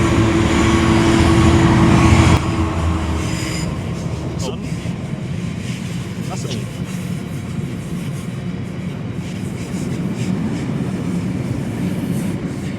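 A long train with many carriages rolls past at a steady rumble, louder at first and then a sustained clatter, with people talking over it.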